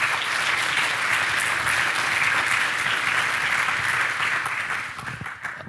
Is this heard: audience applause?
yes